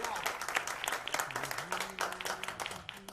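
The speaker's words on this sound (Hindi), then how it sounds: "एक बार जोरदार तालियां उमेश सर के लिए।" Audience applause fills a ghazal album launch event, a dense wash of claps with a faint voice or tonal hum running underneath.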